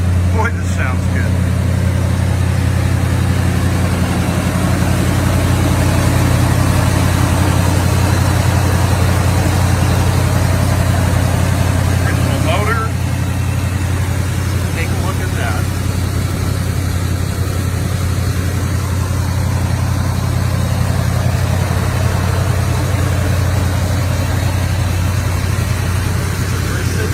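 A 1976 AMC Matador Brougham with 32,000 original miles idles steadily, its low, even engine rumble holding for the whole stretch with faint outdoor background and brief talk.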